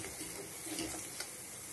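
Spiced arbi (taro) masala being stirred in a pan, a steady soft sizzle with faint scraping throughout, close and even, no voices.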